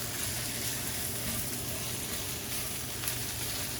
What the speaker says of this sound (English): I'm just going to scrape the bottom